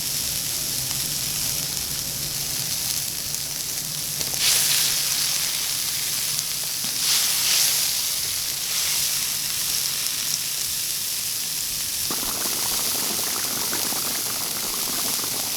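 Fish soup with tofu boiling in a pot, made from a wild yellow-head catfish: a steady, close bubbling and simmering hiss that runs throughout with no talk.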